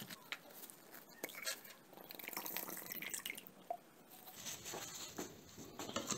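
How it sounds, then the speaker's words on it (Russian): Hydrogen peroxide poured onto citric acid in a plastic cup, a soft, close trickle with faint dripping and patter that stops and restarts. "Далее наливаем перекись водорода."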